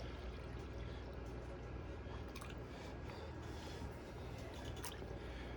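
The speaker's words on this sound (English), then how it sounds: "Pour off some of this water" Water poured off black-sand concentrates from a hex mat in a prospecting pan, Lake Superior material, making a steady continuous wash of sloshing, trickling liquid close by, with no talk.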